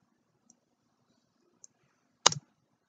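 Sharp mouse clicks while editing on a computer, one faint tick near the start, another small one midway, then a louder double click near the end, close and alone in a quiet room.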